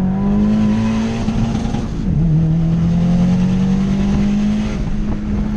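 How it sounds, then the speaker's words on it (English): Turbocharged 2015 Subaru WRX running hot laps on a race track, its engine note loud and steady at high revs with a brief dip and recovery as it shifts or brakes, then pulling hard again. "A few hot laps in and all seemed well, and Chris was back to destroying curbs"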